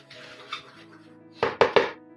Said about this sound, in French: je mélange les ingrédients secs